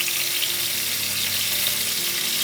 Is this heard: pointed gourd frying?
yes